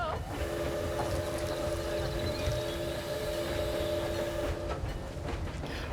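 A ride train in Planet Zoo rolls along steadily with continuous rumbling and clattering and a sustained tonal hum, close and constant throughout, under occasional light talk.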